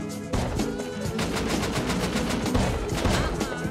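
Rapid automatic gunfire from a trap in the video game Rust, a dense run of loud bursts filling the whole stretch with a few short tonal game sounds on top and no talk.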